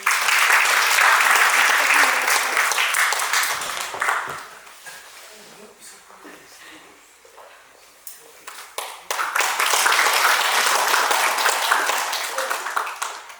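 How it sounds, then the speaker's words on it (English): Audience applause at a Rotary Club of Gauhati South event in a business venue, loud dense clapping that fades to a quieter stretch of scattered claps, then swells back to full strength. "Please give a huge round of applause."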